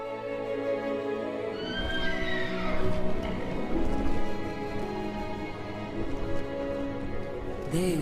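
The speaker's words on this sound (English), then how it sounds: "Horses! Just what I need!" Horses whinny loudly several times over a steady background of clopping hooves and rustling, with a brief sharp sound at the end.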